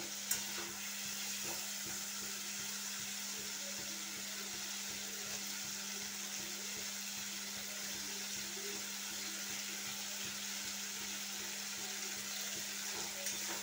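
Potatoes fry in a watery spice masala for a Bengali vetki fish curry with cauliflower, giving a soft, steady, even sizzle that holds unchanged throughout, quiet and close.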